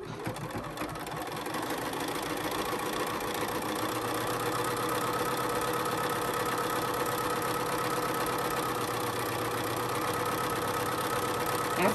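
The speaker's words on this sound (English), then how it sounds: "So let's go ahead and sew those right sides together." A sewing machine stitching fabric pieces right sides together for a dress, running as a steady, continuous mechanical hum and rapid needle chatter at moderate volume, with no talking.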